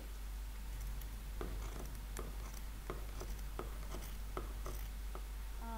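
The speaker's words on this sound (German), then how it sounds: "Nein, diese Schere schneidet schlechter." Fabric scissors chopping along a hard woven selvage edge give a series of sharp, evenly spaced snipping clicks, close but quiet over a constant low hum, with no talk.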